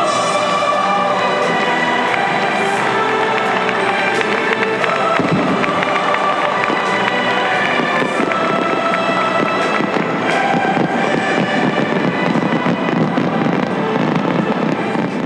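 Fireworks fill the stadium at the 1998 Asian Games closing ceremony with dense, continuous crackling and popping bursts over a loud, steady roar of the cheering crowd.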